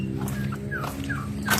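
Chickens, turkeys and ducks in a farm pen at feeding time give brief clucking and gobbling calls over a steady low hum, close and moderately loud.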